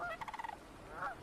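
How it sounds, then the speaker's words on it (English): Sandhill cranes call at a beaver pond, giving a rolling, rattling burst followed by a second rising call, moderately near and clear against quiet surroundings. "Sandhill cranes arrive from Mexico,"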